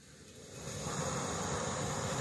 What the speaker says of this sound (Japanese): これとろ火でいいと思いますよ。